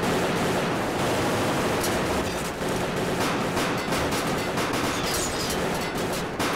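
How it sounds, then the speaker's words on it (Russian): Continuous heavy gunfire in Escape from Tarkov, a dense rattling barrage of rapid shots blending into a loud, unbroken roar with no talking. "Массированный огонь в сторону угрозы."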